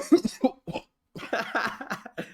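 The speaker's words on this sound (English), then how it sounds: "I'm trying to mute myself before I cough, but I couldn't stop that one." Several coughs close to the mic, a quick burst of two or three, a pause, then a longer run of harsher coughing.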